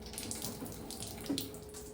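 Water purifier tap on free flow, a faint, steady stream of water running briefly into a container.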